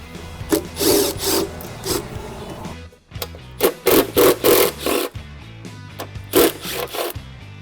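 Wrench work on the bolts of an AC blower fan assembly with squirrel cages, loud metallic ratcheting and scraping in repeated bursts separated by short pauses, close up with no talking.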